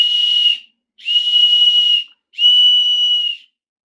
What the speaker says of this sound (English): And emergency whistle right here.